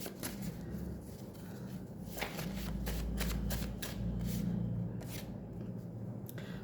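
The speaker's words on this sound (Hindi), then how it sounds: "कुछ कार्ड्स मैं निकाल लेती हूँ, क्योंकि ये जो कार्ड है ना बहुत ही सॉफ्ट है, तो ये निकलते नहीं है अपने मन से, चिपक जाते" A soft deck of tarot cards is shuffled by hand, giving a run of crisp riffling bursts and quick slaps as cards are pulled, close and quiet.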